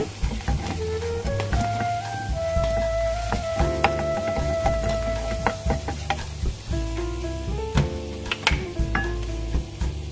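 Oil sizzles steadily as vadai fritters fry in a pan, with occasional clinks and scrapes of a utensil against the pan.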